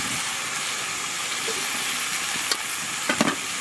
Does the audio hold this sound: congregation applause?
no